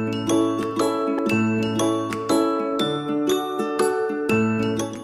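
Bright tinkling of small bells jingling together in overlapping clusters, ringing steadily and close by with no talking.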